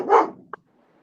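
A dog gives one loud, close bark indoors in a home, followed by a faint short yelp and then near silence.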